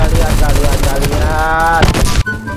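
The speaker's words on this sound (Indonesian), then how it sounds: "Woi, ada nembak tuh siapa itu?" Gunfire in the Roblox shooter Phantom Forces: loud, rapid automatic bursts crackling almost continuously, cutting off near the end, with a voice talking over the shots.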